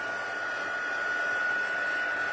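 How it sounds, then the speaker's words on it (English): A heat gun blows steadily to dry fast-drying stamped ink on a handmade card, a constant whooshing hiss with a fixed whine, close and unbroken throughout. "I'm going to do a little quick dry with my heat gun"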